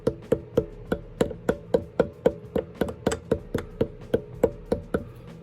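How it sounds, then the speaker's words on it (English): A small brass hammer taps metal parts in on a Hyundai Tiburon in a steady, even rhythm, about fifteen sharp close knocks in a row with no talking. "brass hammer to tap them in"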